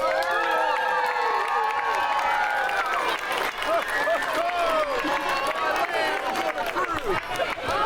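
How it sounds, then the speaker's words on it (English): A crowd at a downtown holiday open house cheers and claps for Santa Claus, a busy mix of shouts, whoops and applause with children's voices and chatter mixed in. "Let's give Santa Claus another round of applause here."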